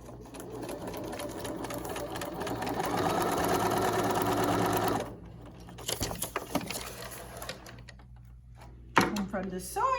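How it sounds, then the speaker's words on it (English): A sewing machine runs in a fast, steady mechanical chatter for several seconds, then stops, followed by scattered clicks and handling sounds. "And then it's back to the sewing machine."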